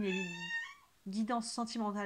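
A house cat meows loudly and close by, one drawn-out meow followed by a short series of quick chirpy meows, while someone speaks at the same time.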